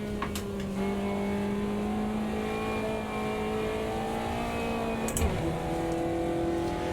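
A Caterham race car engine in the Automobilista 2 sim, driven hard around a lap, holds a steady droning whine at a constant pitch with a brief shift blip near the end, fairly quiet and without voices.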